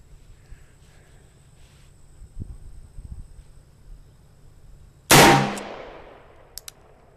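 A single loud, sharp shot from a .45 Colt New Service revolver rings out close by with a long decaying tail, after faint handling noises, followed by a couple of small clicks.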